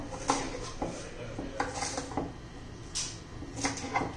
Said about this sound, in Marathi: तर सर्व भेंडी मी अशी चिरून घेते.